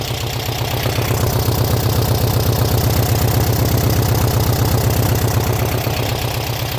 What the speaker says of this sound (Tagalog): Yan ang tunog ng Volkswagen.